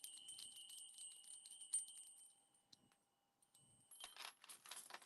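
Small bells on a decorative crystal figure with rhinestones and glass bead eyes jingle in soft, quick tinkling bursts, close and faint, pausing briefly before a second flurry.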